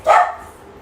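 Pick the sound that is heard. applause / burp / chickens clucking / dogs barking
dogs barking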